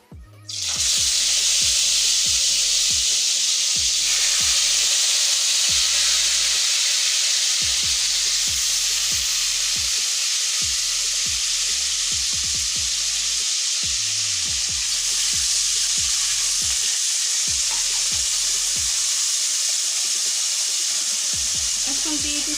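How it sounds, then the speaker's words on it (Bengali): Onions sizzle and fry steadily in hot oil in a pan for an egg beef korma, a loud, continuous hiss of sizzling with occasional stirring knocks and scrapes, heard close up with no talking. "কিছুটা তেল দিয়ে দিচ্ছি আর দিয়ে দেবো প্রথমে পেঁয়াজ।"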